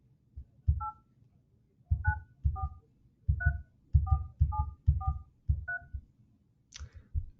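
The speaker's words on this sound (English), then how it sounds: "Of course, it's like a regular dial pad. You can dial a number." Phone dial pad tones beep in a quick series of about ten short, evenly spaced presses while a number is entered, each tone clean and close, with soft low thumps under each press and no talking.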